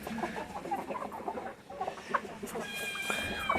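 Hens cluck on a farm of Bhimavaram breed country chickens, a black hen among them, with dense overlapping clucks and calls filling the scene at a steady, moderately close level.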